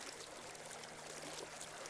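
River water flows steadily past in the open air, a continuous soft, hissing rush with no pauses, fairly faint and heard alone.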